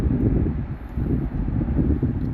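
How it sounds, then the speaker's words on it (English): Strong wind buffets an outdoor microphone, a loud low rumbling roar that surges and dips in gusts, with no other sound above it. "It's pretty windy out here today"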